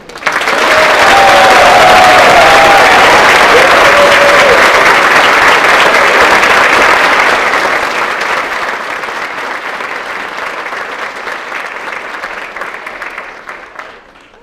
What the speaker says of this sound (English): one more huge round of applause for the DPT class of 2023